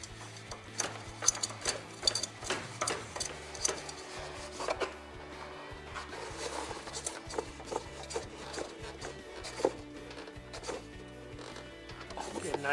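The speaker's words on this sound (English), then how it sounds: "Screw it back on." Kohler Courage 22 hp engine oil filter being screwed back on by hand, with faint irregular clicking, rubbing and ratcheting mechanical sounds close by, over steady low background noise.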